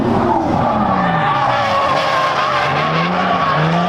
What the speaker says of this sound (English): they're gonna start drifting now. It's gonna get loud.